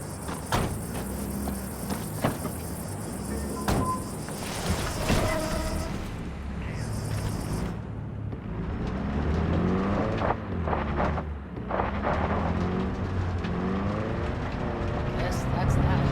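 Car engine hum and road noise from driving in Cyberpunk 2077, steady throughout with shifting engine tones, with people talking over it the whole time.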